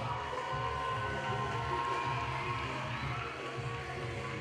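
A roller derby crowd cheers and claps for an MVP between the Wheels of Justice and the LA Riots, a steady, dense wash of noise from many people holding at an even level throughout.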